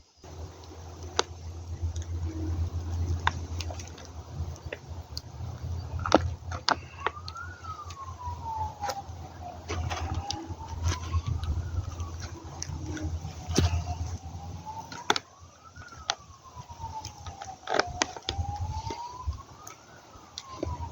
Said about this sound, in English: bloody sirens